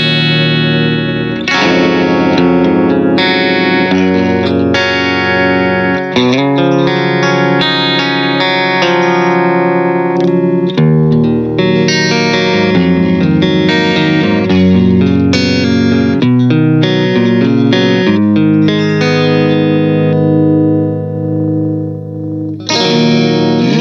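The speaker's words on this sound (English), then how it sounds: "I just have my Fender American Special Strat. It's stock, so here's some clean tones." A stock Fender American Special Stratocaster plays clean tones through a Bullhead Scorpio 2x12 combo amp, loud chords and single notes ringing out in phrases with short gaps, sustained and reverberant, with no talking.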